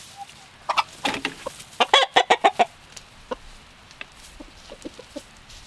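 Backyard chickens clucking close by, a quick run of loud, sharp clucks in the middle, then scattered softer clucks fading off.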